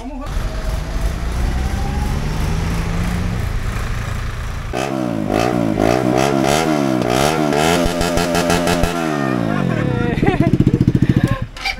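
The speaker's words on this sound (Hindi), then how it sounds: "ये 4 राइडर अभी एग्जॉस्ट लगाने वाला है इसका बाइक में।" A motorcycle just fitted with a free-flow aftermarket exhaust revs hard and close by at a roadside repair shop, rising and falling in throttle blips after a steady idle, with voices talking over it.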